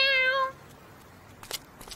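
A single short meow from a cartoon cat, clear and close, lasting about half a second, followed by quiet room noise and a couple of faint clicks.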